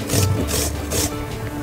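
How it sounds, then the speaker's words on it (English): Peeled potatoes are grated into a bowl, producing a few quick, close rasping strokes in a short, repeated scraping rhythm with no talk. "you have to grate them into the bowl"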